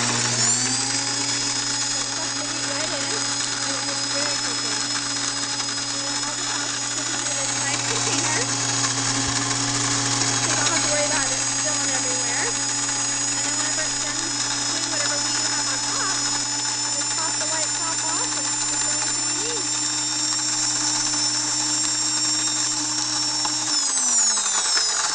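A Shelf Reliance kitchen mill wheat grinder runs continuously with a loud, steady high-pitched electric whine and grinding hum, close by, then switches off near the end.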